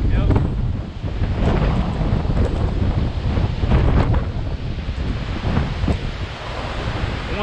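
Strong wind blows across open water beside a dam during a thunderstorm, a loud, continuous buffeting roar with rushing waves breaking underneath and a voice speaking through the gusts.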